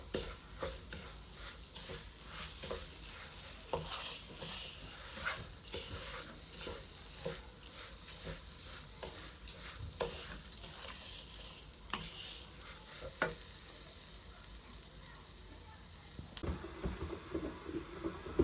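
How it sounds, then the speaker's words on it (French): Chicken, garlic and onion sizzle with bulgur in a frying pan while a utensil stirs and scrapes steadily throughout, with occasional clinks against the pan, close and continuous. "une fois que c'est bien mélangé, donc je laisse à peu près 1 minute à mélanger comme ceci"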